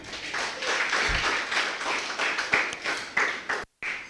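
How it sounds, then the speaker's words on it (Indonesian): Congregation clapping during a church worship service, a moderate patter of hands with a few sharper claps standing out, fading near the end and broken by a brief silent gap. "Tepuk tangan buat Tuhan kita."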